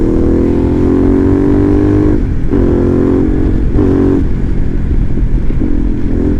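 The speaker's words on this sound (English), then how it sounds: "the bike has no problem getting up to highway speeds and giving her shit" A Harley-Davidson Pan America Special motorcycle accelerates hard on a highway, its engine loud and close with rising revs, a brief dip as it shifts gears, then pulling strongly again.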